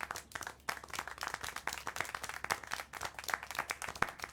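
Steady, brisk clapping from a small group in the adventure video game Syberia: The World Before, dense and continuous throughout with no talking.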